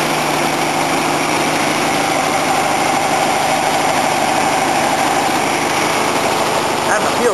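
A 1966 Volkswagen Beetle's air-cooled engine runs steadily close by, a dense, buzzy idle that holds constant throughout with a slight rev change near the end.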